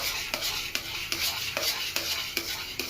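Coconut powder mixture is stirred in a pan for kopra pak, with a spoon scraping in a regular rhythm of about three strokes a second over a soft sizzle. The sound is close and no one speaks.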